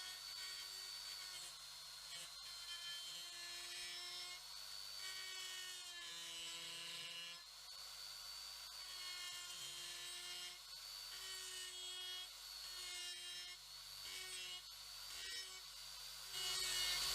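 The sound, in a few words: die grinder fettling a metal tool and cutter grinder part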